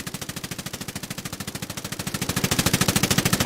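Sustained automatic gunfire in Ghost Recon Wildlands, a rapid even stream of shots with no pauses, growing louder over the final second.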